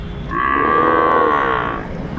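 A single Sahiwal breed animal from a farmer's herd of bulls and calves gives one loud, close moo lasting about two seconds. It rises and fades over a quiet background.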